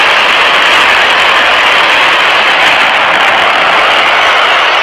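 Hydrogen-oxygen rocket engine roaring at full power, a constant, very loud broadband hiss-roar that fills the whole span without pause or change and carries no voices.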